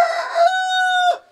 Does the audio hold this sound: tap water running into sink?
no